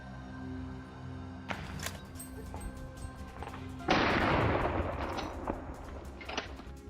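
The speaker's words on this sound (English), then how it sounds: "One final powerful shot finally brought it down" Rifle shots fired at a large wild boar on a Texas farm, a few sharp cracks followed by one loud, powerful final shot with a lingering roar, heard outdoors with no talk.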